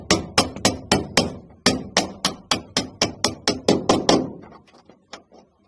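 A hammer taps a sleeved bolt through a worn seat-pedal bolt hole in a longeron, striking about sixteen sharp metallic blows in an even rhythm up close, then a few quieter, spaced taps as it seats.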